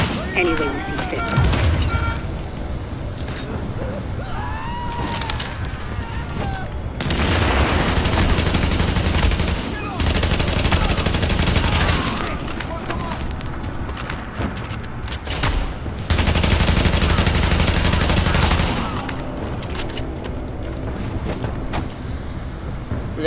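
In The Division, a turret fires repeated bursts of automatic gunfire in long loud volleys with gaps between them, set among other game sounds while a person talks.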